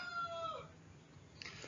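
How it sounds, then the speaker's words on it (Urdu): A rooster crows faintly in the distance, a short tonal call that fades after a moment, followed by quiet background noise. "سوری آپ کو مرغے کی اذان تنگ کر رہی ہے"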